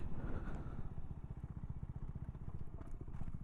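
A Honda Grom motorcycle engine runs steadily and close during a stoppie, a dense, buzzy idle-to-low-rev drone with a fast pulsing rhythm and slight rattling, held at an even level for the whole stretch.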